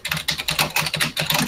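Rapid clatter of a computer keyboard being typed on, close and steady with short bursts of keystrokes and brief gaps, no voices.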